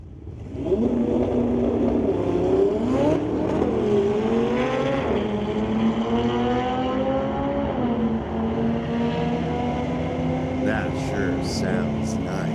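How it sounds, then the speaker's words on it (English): A loud Oldsmobile 442 engine revs and roars at a drag strip, its pitch climbing through gear shifts as it accelerates away, with a voice talking faintly over it. "Racing the Oldsmobile 442."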